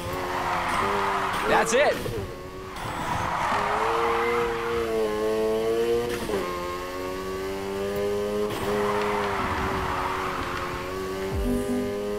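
A car drifting through corners in the Need for Speed Heat racing game gives a steady engine drone with rising and falling revs and brief tire screeches, heard under continuous talk.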